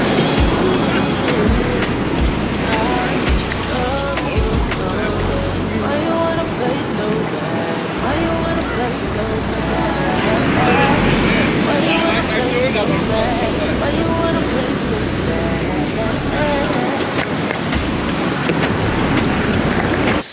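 Ocean waves and wind at Myrtle Beach form a continuous broadband wash of surf and blowing air, steady and fairly loud, with faint voices mixed in.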